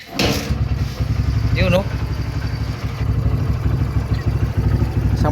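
Barako motorcycle engine idling steadily after one kick start, a close, even low thumping throb, with someone speaking briefly over it in hot outdoor conditions.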